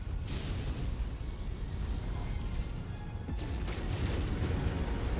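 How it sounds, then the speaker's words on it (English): A mech blows up in the video game Mechwarrior 5, a rumbling, crashing burst of low-heavy noise with sharp debris-like cracks near the start and again around the middle. The blast sounds loud and close, with no talking over it. "Explosion imminent."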